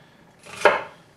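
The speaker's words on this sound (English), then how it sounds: "you just want to cut your onions, again about a half-inch size diced" A single knife chop through onion on a cutting board, dicing to half-inch pieces for clam chowder: one sharp, close, fairly loud thunk with a short crisp tail.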